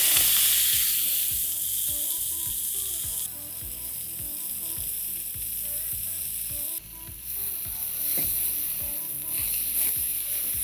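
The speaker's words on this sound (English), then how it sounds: "Let us saute the fenugreek leaves on high flame" Fresh fenugreek leaves sautéing on high flame in a cumin seed tempering, a loud steady sizzle with rhythmic stirring scrapes throughout, close up and alone without voices.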